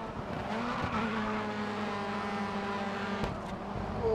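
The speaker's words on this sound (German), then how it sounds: "Oh, ein schöner Drift." A race car drifts in the racing video game GRID Autosport with a long, continuous tire squeal over a steady engine drone, loud and close, no talk.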